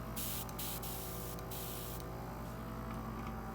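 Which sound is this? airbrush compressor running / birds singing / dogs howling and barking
airbrush compressor running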